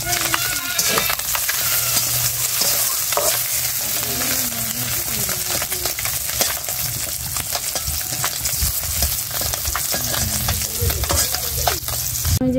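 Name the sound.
fish frying in hot oil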